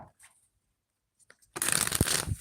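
Tarot cards riffle-shuffled close up, a brisk dense burst of card flutter after a near-silent pause, with one sharp snap partway through.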